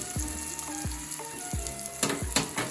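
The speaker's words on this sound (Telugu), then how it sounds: "కొద్దిగా జీలకర్ర ఆవాలు వేసుకోవాలి ఫ్రెండ్స్ ఇదైతే ఇక్కడ అయిపోయింది ఫ్రెండ్స్ ఇంకా కరివేపాకు వేసుకొని" Cumin seeds, mustard seeds and curry leaves fry in hot oil, a loud continuous sizzle broken by several sharp spattering pops and bursts close to the pan.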